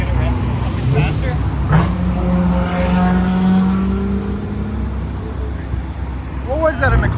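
A 2012 VW Passat with a 3.6-litre VR6 V6 and straight-pipe exhaust revs up, its droning engine note rising and holding before easing off, loud and nearby, with people talking over parts of it.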